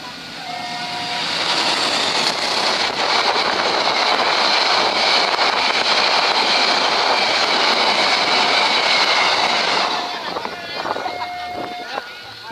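The Joglo Semarkerto passenger train rumbles past close by at a guarded level crossing, a loud, steady roar that holds for about ten seconds before easing off, with a brief horn-like tone near the start.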